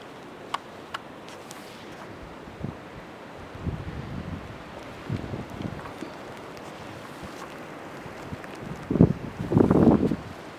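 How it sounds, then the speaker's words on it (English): Wind from a snowstorm near Kincardine gusts and rumbles against the microphone, with scattered buffeting bursts over a steady low roar, strongest near the end. "It's windy and cold."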